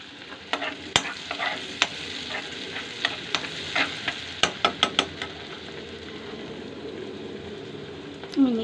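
Spices frying in oil in a pan for dhaba-style egg tarka, a steady loud sizzle with a spoon or spatula tapping and scraping the pan in quick irregular clusters, close up, ending with a short louder knock.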